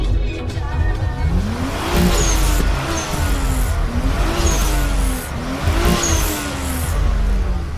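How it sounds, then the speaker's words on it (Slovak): A 1990s BMW engine revs repeatedly during exhaust decibel measurement at Poprad airport's Power Fest, the loud engine note rising and falling in several rhythmic bursts at close range, with a faint voice underneath. "tu ide viac zvuku z motora ako z výfuku"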